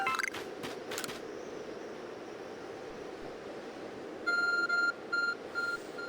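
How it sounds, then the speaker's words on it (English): Arc phone in Pokemon Legends: Arceus beeps in a quick series of high electronic pulses, about four short bursts in a row, over a steady game ambience of rustling noise. "Your Arc phone is beeping."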